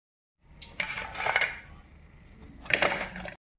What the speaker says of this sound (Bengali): আওয়াজ শুনে বুঝতে পারছো উপরটা কেমন মুচমুচে